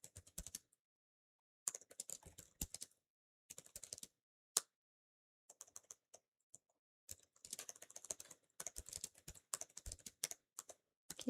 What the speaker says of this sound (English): my mic is right next to my keyboard, so that's probably why it's really loud